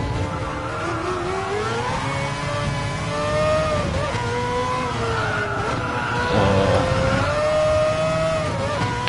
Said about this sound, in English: yeah, this car is super loud.